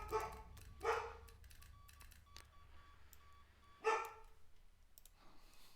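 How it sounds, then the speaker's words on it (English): A dog barks sharply a few times, moderately near, with spaced loud yelps over a low indoor hum and scattered clicks. "my dog is being crazy again."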